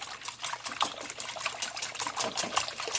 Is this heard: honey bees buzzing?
no